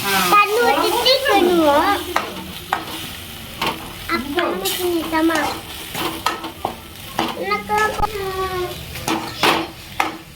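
Black pepper sautés in a pan for a country chicken curry, with a steady sizzle and ladle stirring scrapes under a person talking throughout.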